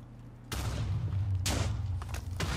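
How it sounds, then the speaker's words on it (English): A button blowing up in Minecraft: a loud, sudden blast followed by two more sharp booms, each trailing into a low, rumbling roar. "I think the button exploded."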